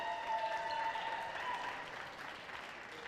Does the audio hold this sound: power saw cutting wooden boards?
no